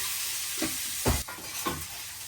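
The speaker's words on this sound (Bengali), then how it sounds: "একটু হলুদ আর লবণ দিয়ে পনিরটাকে ভাজা নিতেছি হালকাভাবে।" Paneer fries lightly in a pan with turmeric and salt, a constant sizzle punctuated by three loud stirring scrapes, with no voices.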